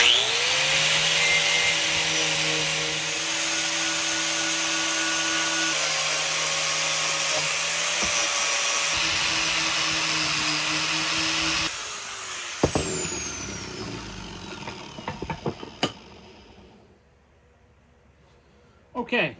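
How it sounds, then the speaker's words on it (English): A braided cup wheel on a power tool whines steadily against a Council Tool axe head, stripping its dip paint. The loud, continuous grinding runs for most of the stretch, then cuts out and spins down, followed by a few clanks and handling knocks. "the tool that I'm gonna use to do that is just a basic, you know, braided cup wheel"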